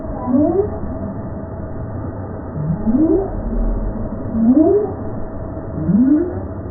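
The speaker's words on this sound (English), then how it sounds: "That is a right whale." A right whale calls underwater, repeating a low rising upsweep moan four times at regular intervals over a constant rumbling ocean background.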